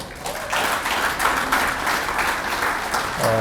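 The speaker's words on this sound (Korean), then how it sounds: "정말 강건한 모습에 우리 박수 한번 더 보내주시죠." Audience applause at a defense industry association's anniversary ceremony and award event, a steady dense wash of many hands clapping throughout, loud and sustained with no speech over it.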